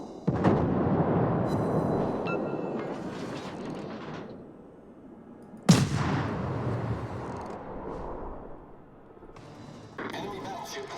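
Heavy battleship guns boom in a naval warfare video game, a sharp loud blast near the middle followed by a long rumbling decay, with dense low roar and game sounds throughout and a voice talking over it.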